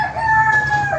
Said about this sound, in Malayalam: കോഴിയാണ് കേട്ടോ.